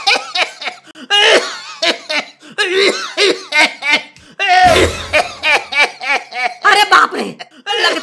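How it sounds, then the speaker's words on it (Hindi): A cartoon character in a comic Hindi school scene coughs loudly and repeatedly, the voiced, harmonic coughs arriving in rapid bursts with a few laugh-like sounds and brief pauses between them. "अब ये जोर जोर से खांस रहे हैं"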